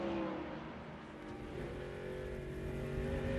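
NASCAR race cars, including Denny Hamlin's, run on the Mexico City road course at Autodromo Hermanos Rodriguez in the 2006 Telcel-Motorola 200, a steady loud engine drone with shifting pitch and no talk.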